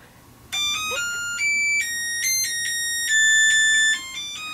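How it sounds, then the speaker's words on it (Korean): A bright electronic alarm clock chime plays a stepped sequence of clear tones in short bursts, fairly loud over a quiet room. "알람 소리와 함께"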